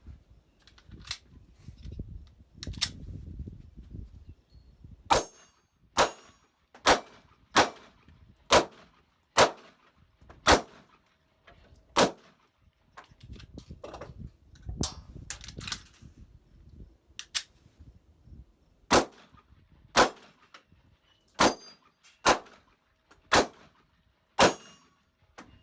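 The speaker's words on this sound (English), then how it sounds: "I will shoot 2 magazines through the Smith & Wesson" A Smith & Wesson Shield 9mm pistol fires a long string of sharp, loud, evenly spaced gunshots, about twenty in all, with a brief rustling pause near the start and another midway between shots.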